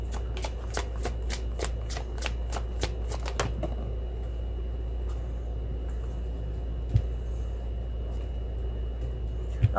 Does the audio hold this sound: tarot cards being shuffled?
yes